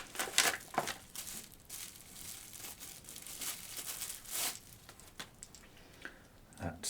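A sturdy plastic bag packed with a small camera rig and monitor accessories crinkles and rustles in close, irregular handling bursts, quiet overall with sharper crackles scattered through.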